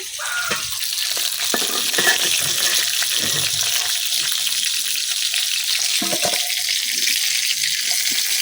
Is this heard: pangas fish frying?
yes